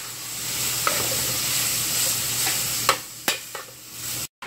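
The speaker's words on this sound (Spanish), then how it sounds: "Eso es lo que estoy haciendo de comer. Carnita molida con chile, tomate y cebolla" Ground meat frying with chile, tomato and onion in a pan, a steady close sizzle with a few sharp clicks and scrapes of stirring near the end.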